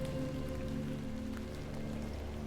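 Steady rain falls in the point-and-click game The Excavation of Hob's Barrow, a constant close hiss that stays even throughout, layered over low sustained musical drone tones.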